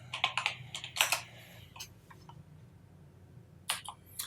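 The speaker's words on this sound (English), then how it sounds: "go to cell L11 and press and type in 20" Someone types a value on a computer keyboard, a short burst of quick, close clicky keystrokes, a pause, then a few more taps at the end.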